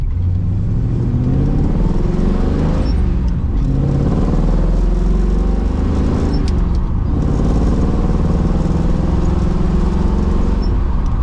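A 1967 Pontiac Firebird V8 engine roars and accelerates with rising and falling revs, loud and continuous for several seconds with a rough mechanical clatter and no talking.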